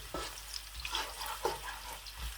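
Chopped onions frying in a pan over low heat for aloo bhujia, a soft continuous sizzle with a few stirring scrapes, close and moderately quiet.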